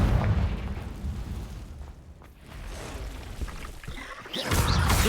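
Confringo fire spell from Hogwarts Legacy going off in loud, booming explosive bursts, one at the start and another near the end, with a rumbling blast between them.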